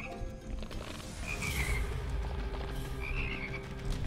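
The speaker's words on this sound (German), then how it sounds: "Frösche. Wo sind die Frösche?" Frogs croak in the video game Immortal Redneck, two short warbling calls standing out over a loud, busy rumbling game background.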